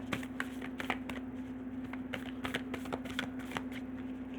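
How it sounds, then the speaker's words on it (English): Tarot cards riffle and snap in quick bursts, several brisk shuffles close up, with a steady low hum underneath. "one more shuffle."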